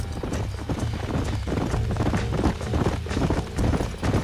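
A horse gallops in Red Dead Redemption, with rapid, rhythmic hoofbeats thudding close and loud throughout, a brief whinny mixed in.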